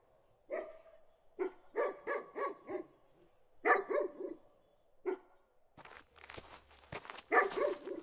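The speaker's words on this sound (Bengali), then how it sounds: "হঠাৎ আমার ঠিক পাশ থেকে একটা কুকুরের ডাক শোনা গেল।" A black dog barking nearby in an animated horror story, a series of loud close barks in uneven bursts with short pauses, followed by a rougher stretch of sound near the end.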